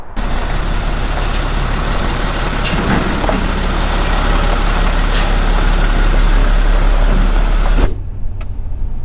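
A truck hauling a strapped-down McLaren tub and a Mustang body drives along with a loud, steady engine roar and road noise, then the sound cuts off sharply near the end.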